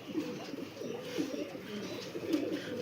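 Pigeons kept in a coop coo softly and continuously, a low rolling murmur with repeated throaty phrases, moderately close and without speech.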